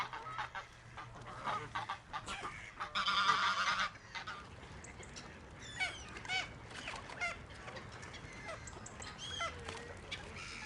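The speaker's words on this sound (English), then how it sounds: "The birds always seem to know when someone's arriving with food." Geese and other waterfowl honk at a pond as someone arrives to feed them, with a loud burst of honking near the start and scattered calls afterward over a low outdoor background.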